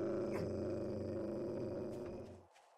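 Dog growling in the video game 7 Days to Die, a close, sustained low snarling rumble that holds for over two seconds and then cuts off abruptly, with no speech.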